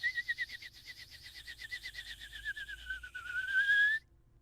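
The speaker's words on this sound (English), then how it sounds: "Weezer then dragged herself to the kettle when it started to whistle" A kitchen kettle whistles alone, a warbling tone that pulses quickly and then steadies into a sustained shrill note before cutting off abruptly.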